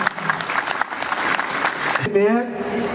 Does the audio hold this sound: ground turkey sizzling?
no